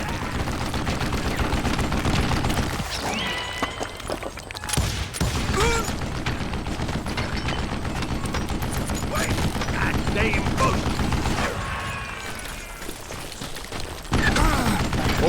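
Rapid bursts of gunfire from the Western shooter game Call of Juarez: Gunslinger, loud and dense across the whole stretch with brief lulls, layered over game music and effects and sharp booming shots.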